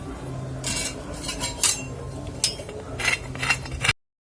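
Peeling the skin off a large halved snake gourd, close scraping strokes in quick uneven bursts, crisp and fairly loud, with no talking.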